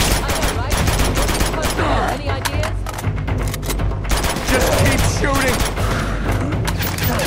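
A dense firefight in Uncharted 2: constant automatic gunfire and rapid shots with occasional booms, loud and continuous throughout, with voices shouting over it.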